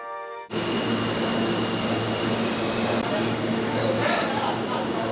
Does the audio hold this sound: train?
yes